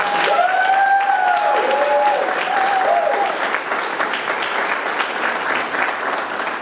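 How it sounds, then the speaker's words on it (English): An audience gives a round of applause at a community solar event in Charlotte, steady and full for about three seconds, then continuing more thinly as scattered clapping, with a brief whistle-like tone early on. "I'll take a round of applause if we can for Monica for organizing this event"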